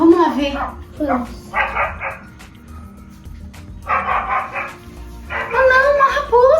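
Dogs at a farm henhouse bark in clustered volleys, loud and nearby, separated by short pauses, with yelping, whining tones mixed in.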